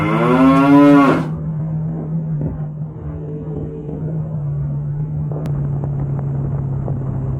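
A cow moos loudly once at close range over a steady low engine drone from a car on the road, then the engine hum carries on alone.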